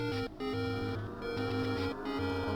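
A chiptune theme plays loud and continuous, a bright square-wave melody over a pulsing bass line, with a short dip in the middle and no voices.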